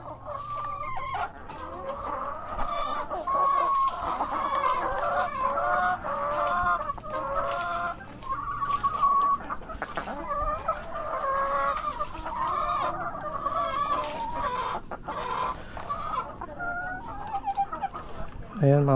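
Hens on a small backyard farm, a dense chorus of clucking and throaty calls from several birds close by, continuing throughout with occasional louder squawks and a voice talking intermittently.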